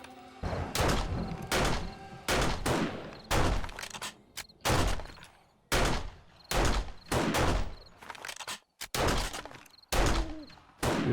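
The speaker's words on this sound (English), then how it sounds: "pull out your rifle, and we start taking some shots" Rifle shots in the 7 Days To Die Alpha 18 co-op game ring out as a series of loud, sharp cracks, about a dozen spaced irregularly, each followed by a brief tail of rumble.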